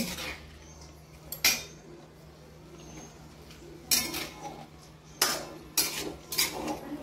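Metal spoon clinking against a pan while salt is added to chopped dill greens for shepu bhaji, several sharp separate taps and scrapes with quiet gaps between.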